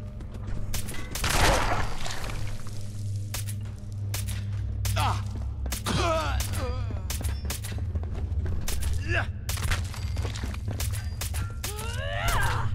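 Gunshots ring out in Fallout 4, several sharp reports scattered across the clip over a steady low hum, with groans and thuds between them and a voice talking.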